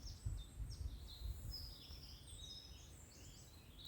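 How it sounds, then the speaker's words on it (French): Outdoors, small birds sing in quick, high chirps and twittering phrases over a low, steady background rumble, moderately faint and continuous throughout. "on entend le chant des oiseaux."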